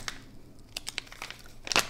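A plastic bag holding a CJRB Pyrite Light knife is opened, giving faint, scattered crinkles and rustles that end in a sharper crackle.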